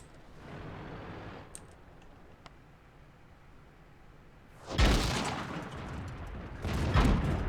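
Tank cannon fire in World of Tanks from a Type 4 Heavy: two heavy booming shots a couple of seconds apart, loud and close, over a quiet rumbling battlefield.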